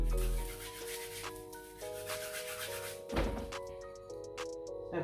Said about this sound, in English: So I take some salt and I scrub on the ginger.